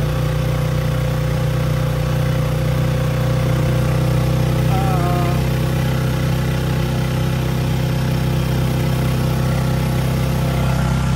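A motorized tricycle in Palawan idles with a loud, steady, close-up engine drone that holds unchanged throughout.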